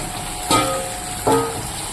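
Hot oil sizzles steadily in a pan holding cumin paste, and two loud bursts of crackling erupt as pieces of already fried fish drop in one after another, then settle back into a hiss.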